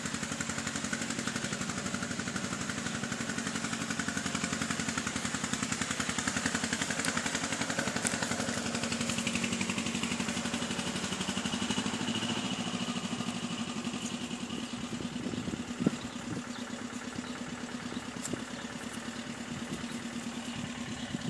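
Tractor engine running at a steady mid-pitched chug, fairly distant and continuous outdoors, with some clattering rattles toward the end.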